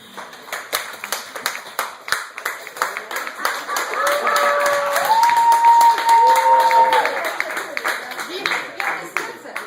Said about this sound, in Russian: А мы их все поддержим аплодисментами